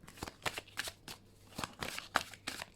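Tarot cards being shuffled close up in a quick burst of crisp riffling flicks, then a short pause before the flicks start again. No voice is heard.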